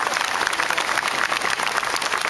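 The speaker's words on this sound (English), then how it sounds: "Give a round of applause, ladies and gentlemen, to the Color Guard, the New York City Recruiting Battalion" Audience applause for the New York City Recruiting Battalion Color Guard at an outdoor Marine Park September 11th ceremony, a dense, steady wash of clapping from a crowd, fairly loud and continuous.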